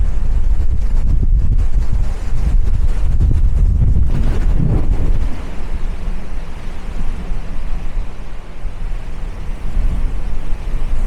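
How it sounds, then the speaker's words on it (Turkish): Strong wind by the sea roars and buffets a DJI Pocket 2 microphone nonstop, a dense rushing noise with heavy low gusts, louder in the first few seconds, with no voices. "İnanılmaz bir rüzgar var."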